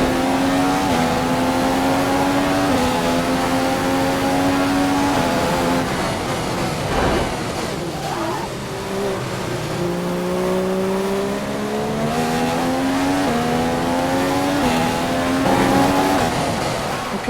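Race cars roar around an Austrian circuit in a racing video game during a championship race, a loud, continuous engine drone whose pitch climbs and drops through gear changes, with other cars' engines layered close by.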